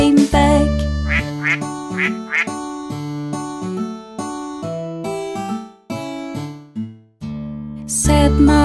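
Cartoon-style duck quacks sound in short bursts over a bright, steady nursery rhyme song with tuneful music throughout, the quacks repeating in a quick pattern.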